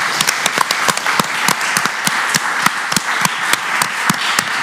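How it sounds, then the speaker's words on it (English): A small audience claps at an online student award ceremony, the individual sharp hand claps clearly distinct and irregularly spaced, a sparse patter of a few people rather than a full crowd. "Well, a small applause,"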